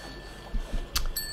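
A service bell on the counter in a cooking video game gives a short bright ding, with a second fainter ring right after, alone over quiet game ambience.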